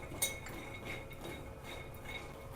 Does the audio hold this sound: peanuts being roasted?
yes